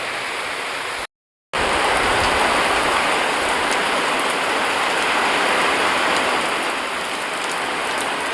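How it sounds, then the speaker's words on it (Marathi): Heavy rain pours steadily during a monsoon trek at Prabalgad, a loud dense hiss of water on surfaces that continues throughout apart from one brief gap near the start. "पाऊस पण जोरात चालू झाला आहे आता."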